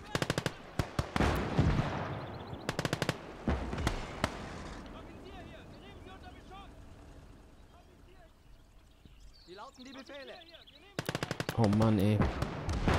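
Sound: long field gun firing in the video game Gates of Hell

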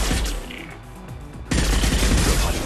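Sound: gunfire bombardment in the video game Mass Effect 2

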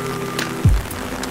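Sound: rain falling

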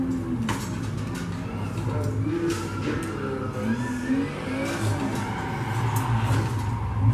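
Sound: vehicle drifting and crashing in a driving simulator video game

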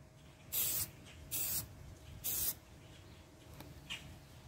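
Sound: spray paint can spraying camo

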